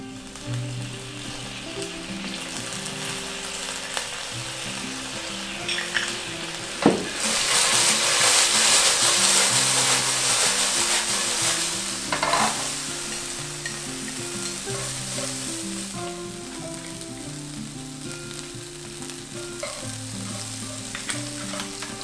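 Vegan dried squid shreds stir-fried in a wok, a continuous close sizzle with repeated scraping stirs and a sharp clatter near seven seconds, then louder hissing that gradually settles; no talking.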